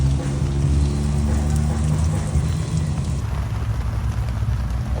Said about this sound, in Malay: Hujan, masih hujan.